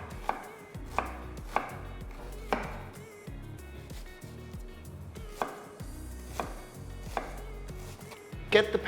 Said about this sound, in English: it's much easier to chop it into little cubes